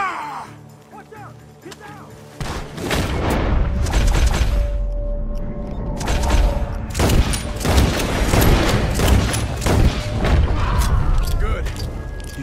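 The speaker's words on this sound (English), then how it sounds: "Gunshots are coming from that barn!" Bursts of Red Dead Redemption 2 gunfire crackle through a busy mix of loud booms and mechanical clatter, with voices talking over the shooting.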